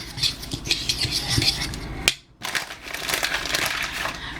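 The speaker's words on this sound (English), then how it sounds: "So I'm just gonna give that a mix so that it's kind of all incorporated together." Dry baking ingredients get stirred in a bowl with a utensil, a steady gritty scraping and clinking that stops briefly midway, then resumes close and fairly loud.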